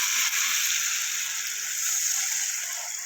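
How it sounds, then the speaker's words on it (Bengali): Spiced potatoes frying in a pan as water is poured in, giving a steady, close hiss and sizzle throughout with no talking. "এবার আমি দেবো জল।"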